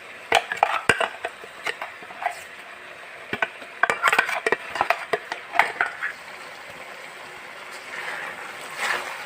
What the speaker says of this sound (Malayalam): നമുക്കിനി അരപ്പ് ചേർത്ത് കൊടുക്കാം.